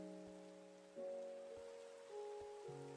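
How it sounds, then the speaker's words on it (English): Steady Minecraft rain hiss runs softly through the whole stretch, a faint even patter sitting under sustained game music tones, with no talking. "I really do hate Minecraft rain."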